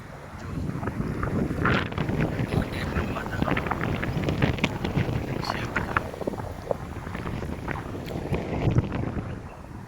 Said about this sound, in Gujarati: પવન નીકળ્યો છે ફૂલ